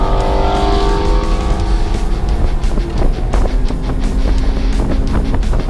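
A BMW 128i race car drives hard around Las Vegas Motor Speedway, its engine roaring loud and close from the cockpit as it climbs and drops through gear changes, with road rumble throughout.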